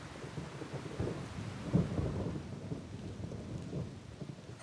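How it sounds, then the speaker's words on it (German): Thunder rumbling through a rainstorm on an alpine pasture, a low rolling boom with a sharper peak near the middle under continuous rain hiss. "Weißt du, was donnert?"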